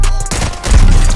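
Rapid bursts of gunfire in Call of Duty Warzone 2.0, loud and close, with dense overlapping shots across the whole moment.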